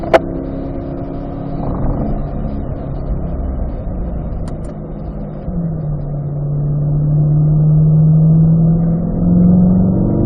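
A car on a race track at a performance driving school, its engine droning steadily from inside the cabin, then the pitch dropping low and rising again as it accelerates out of a turn, with no talk.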